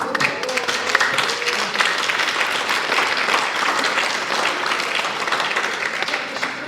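An audience at a theatre meeting for the play Macbeth claps steadily and enthusiastically, a dense wash of applause that holds at an even level throughout.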